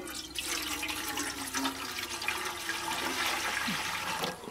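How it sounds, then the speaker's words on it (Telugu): Water poured into an idli steamer pot, a continuous close splashing and gurgling stream filling the metal vessel for several seconds. "ఇడ్లీ పాత్రలో కొంచెం నీళ్ళు పోసుకొని వేడి చేసుకుందాం."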